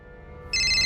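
An incoming-call ringtone on a phone starts abruptly halfway through, a loud, steady electronic tone with no talking.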